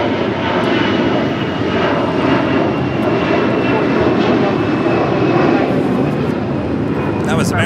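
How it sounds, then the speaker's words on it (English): An American Airlines A321 jet roars on its takeoff run at Los Angeles International Airport, a loud, sustained engine rumble with a broad hiss that holds steady throughout, close and powerful, with a voice talking over it. "That was American Airlines Flight 2979 heading to Dallas, Fort Worth, Texas on that A321"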